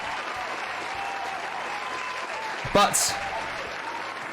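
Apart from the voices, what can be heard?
studio audience applause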